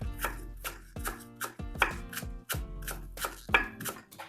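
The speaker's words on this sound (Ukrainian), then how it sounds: "першим кроком подрібнюю цибулю зелену, дуже так дрібненько" Green onion chopped finely with a knife on a board, a steady series of sharp, close taps in quick uneven rhythm, heard alone without talk.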